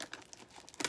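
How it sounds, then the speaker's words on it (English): Scissors cut into a cardboard box, giving short crinkling, tearing cuts in quick irregular bursts, close and moderately loud, with no talking. "I have my scissors, so I'm going to open my box right now."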